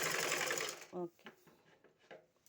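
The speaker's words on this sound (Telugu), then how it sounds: "ఆ లెవెల్లో మొత్తం కింద నుంచి పై దాకా కుట్టేస్తాం." Sewing machine stitching cloth, a fast whirring run that stops abruptly, followed by a few softer clicks and brief rustling.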